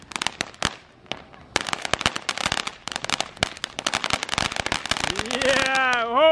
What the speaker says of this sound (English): this is our last firework for the night.